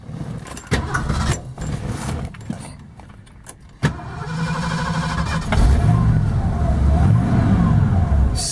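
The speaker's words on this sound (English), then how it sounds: "Well, might as well fire it up right now." Keys rattle and the 351 two-barrel V8 of a 1970 Ford Torino GT with factory single exhaust cranks, catches and starts, then settles into a rumbling idle before being revved up loudly near the end.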